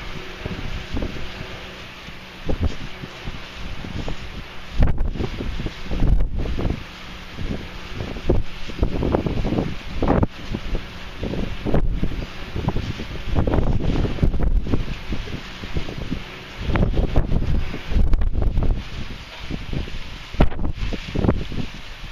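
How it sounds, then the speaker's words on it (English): Steady, gusty wind buffets the microphone in rumbling low surges that rise and fall for the whole stretch, with a loose rattling now and then. "It's pretty windy"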